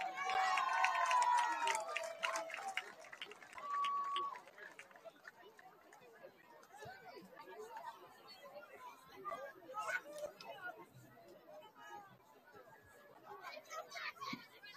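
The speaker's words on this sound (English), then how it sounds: "And now let's cheer on our kindergarten students." Crowd chatter and cheering at a high school varsity football game, Greencastle-Antrim versus Shippensburg, as kindergarten students are sent onto the field; a loud burst of cheers and shouts at the start gives way to steady, quieter crowd babble.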